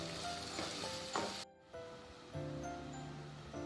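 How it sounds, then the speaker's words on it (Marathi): Onions sizzling in a hot pan as they fry until browned, a dense crackling hiss with clinking of a spatula against the pan and a brief pause midway before the frying noise resumes. "कांदा लाल करून घ्या व्यवस्थित"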